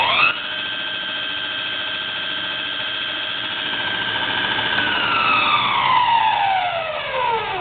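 VECTRAX 44298 drill press motor spinning in reverse at high speed, a steady, fairly loud tonal whine that sweeps downward in pitch near the end as the machine winds down.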